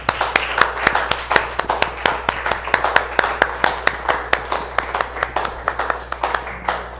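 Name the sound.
applause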